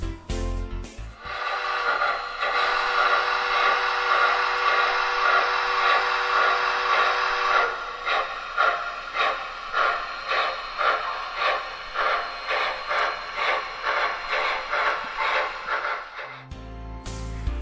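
A triplex articulated steam locomotive starts with a whistle blast, then a dense hiss gives way to rhythmic chuffing exhaust beats, loud and close, ending in another whistle.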